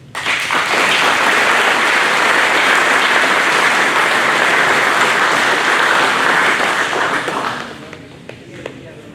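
Loud, dense applause from a company town hall crowd greets an equipment champion award, holding steady for several seconds before dying away to a few stray claps.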